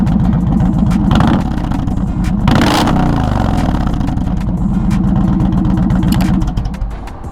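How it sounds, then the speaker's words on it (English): An Indian Challenger bagger motorcycle idles and revs, its exhaust giving a loud, close, steady throbbing rumble with a sharp throttle blip about a third of the way in, heard alone without talk. "I want to give you a quick exhaust clip."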